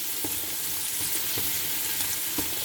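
Frozen mixed vegetables sizzle steadily in a hot pan of oil, a dense continuous crackle with a few soft scraping stirs, close and moderately loud, no voices.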